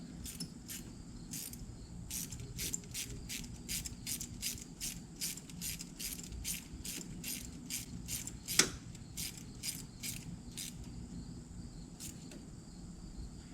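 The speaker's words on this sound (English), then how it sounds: "you put your ratchet to tighten, that usually helps" A ratchet clicks in an even, rapid rhythm while tightening motorcycle spark plugs, a long run of faint, crisp ticks over low background hum, with one sharper knock partway through.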